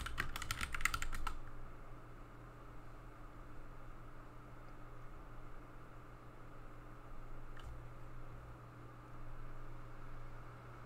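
Brief burst of computer keyboard typing at the start, a quick flurry of clicking keys, then faint steady room hum with a soft isolated tap later on.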